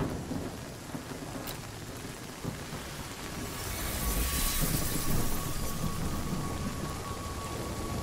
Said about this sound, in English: That thunder came at the right time